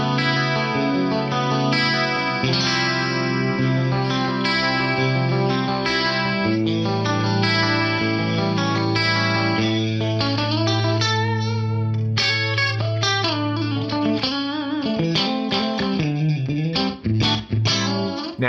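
An electric guitar runs through an Axe-Fx III classic pitch-shift preset, sustained distorted notes and chords thickened by shimmering detuned chorus voices, playing continuously and alone, ending in faster phrases.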